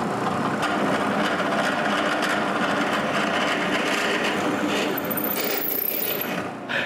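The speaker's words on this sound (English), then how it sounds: "But before, I need to find the center and drill a hole." A steady, loud whirring drone from a drill boring a centered hole in a wooden tripod piece, continuous for several seconds and easing off near the end.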